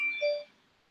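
A short electronic notification chime of two overlapping steady tones, fairly loud and close, fading out after about half a second with no talking.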